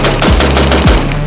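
A short-barreled 7.62x39 rifle is fired unsuppressed, with two loud concussive shots in quick succession, each a sharp heavy blast with a booming low tail, very close and overwhelming.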